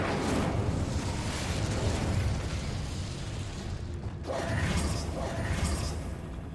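A fire spell is cast in Hogwarts Legacy, giving a loud sustained whooshing roar with a crackling burst that briefly cuts out and then resumes over the game's mechanical rumble.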